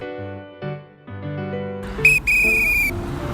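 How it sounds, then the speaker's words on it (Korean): A traffic safety guard working a school crossing gives one sharp, shrill whistle blast lasting about a second. Some low, tonal sounds come just before it. "그때는 이제 호루라기 잡고 제지해야거든요"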